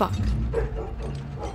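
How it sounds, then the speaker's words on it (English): A pet dog barks somewhere in the background of a home, short yips and woofs set back behind someone talking loudly close to the microphone. "Sorry if you can hear my dog barking."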